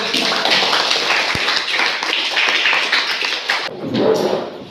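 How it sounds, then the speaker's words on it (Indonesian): Classroom audience applauding after a group presentation: dense, fairly loud clapping from many hands for several seconds, then cutting off abruptly, followed by a brief murmur. "Ya, berikan aplaus."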